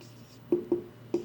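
A pen writes on paper while a lesson is worked out, a few short distinct strokes in an otherwise quiet room, close and soft.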